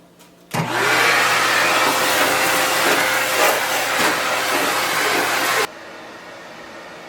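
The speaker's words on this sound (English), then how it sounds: "I'm going to vacuum up the mess." A vacuum cleaner without its beater bar, powered from a portable power station, runs loud and steady for about five seconds with a whining tone, then cuts off abruptly, leaving quiet room noise.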